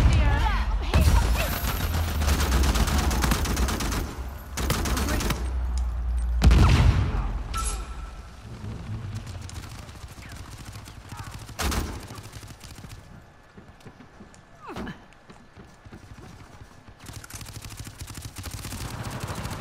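Gunfire in Uncharted 4 multiplayer: loud bursts of rapid shots and sharp single cracks spread through the stretch, some heavy and close, others thinner, with quieter gaps between.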